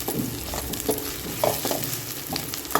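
Masala being stirred into Andhra-style country chicken curry in a pan, a steady scraping and sizzling with intermittent spoon strokes, close and moderately loud with no talking.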